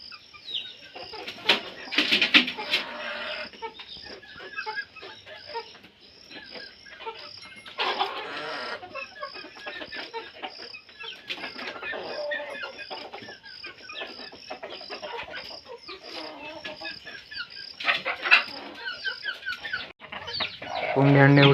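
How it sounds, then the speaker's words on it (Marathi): A brooding hen sitting on her eggs on a small farm clucks and murmurs steadily at close range, with soft rustling and occasional sharper clucks throughout. "कोंबडी अंड्यावरती बसत आहे"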